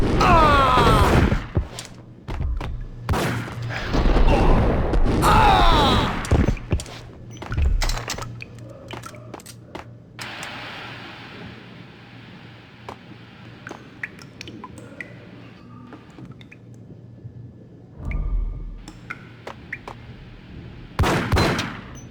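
Gunfire in the PC shooter Max Payne: loud bursts of rapid shots come in clusters early and again near the end, with quieter gaps and wet impact sounds between them.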